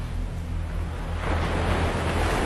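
Surf of the southern sea breaking against the shore near a sacred site, a loud continuous roar of waves with wind buffeting the microphone, swelling stronger toward the end.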